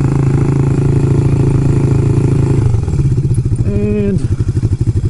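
A motorcycle engine in first gear labors loudly up close, its steady rumble turning rough and uneven partway through, with a brief rising whine and chugging, sputtering pulses toward the end.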